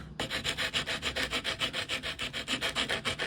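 100-grit sandpaper wrapped on a stick is scrubbed back and forth over wood on a homemade guitar. About a dozen steady, even rasping strokes, close and clear, with no voices.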